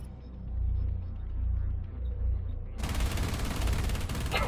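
Rainbow Six Siege gunfire: a low rumbling stretch gives way to a sudden loud, dense burst of rapid shots in the final second and a half, filling the sound with sharp crackling fire.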